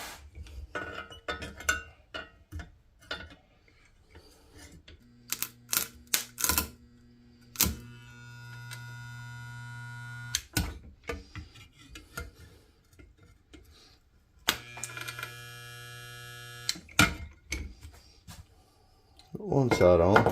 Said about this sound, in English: Alright, let's get that welded in.